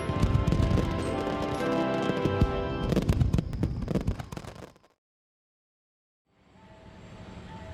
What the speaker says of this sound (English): We can see the fireworks just fine from here.